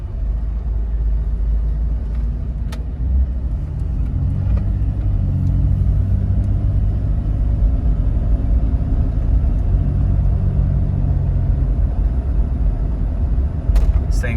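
Low, steady engine rumble and road noise from a 2001 Jeep Cherokee XJ Limited with only 40K miles, cruising smoothly from inside the cabin, with a few faint clicks and no talking.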